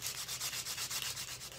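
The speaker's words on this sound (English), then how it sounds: "Much easier to do sanding these when they're on the lathe." Wood being sanded while spinning on a lathe, a close rhythmic rasping swish pulsing about every fifth of a second, steady and fairly loud, with no talking.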